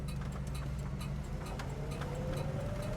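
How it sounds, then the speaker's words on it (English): Turn signal of a 1972 Dodge Challenger ticks in a quick, regular rhythm inside the cabin, fairly faint over the steady engine and road drone at highway speed. "You hear the turn signal."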